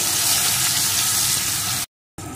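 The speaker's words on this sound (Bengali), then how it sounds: "পেঁয়াজ কুচিটা একটু ভেজে নেব" Chopped onion frying in hot oil for a fish curry, a dense continuous sizzle heard up close and fairly loud, cutting out briefly near the end before resuming.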